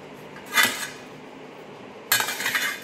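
A large kadhai frying pan clanks twice against metal, a short ringing knock followed after a pause by a longer rattling scrape, close and clear in a quiet room.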